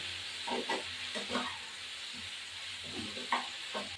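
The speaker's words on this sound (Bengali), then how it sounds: "এবার এগুলো ভাজা হয়ে গেছে, এখন আমি একটু জল দেব" Cauliflower and potato frying in a pan for a spicy catla fish curry, with a steady soft sizzle and a few stirring scrapes that come and go, then a sharp clatter at the end.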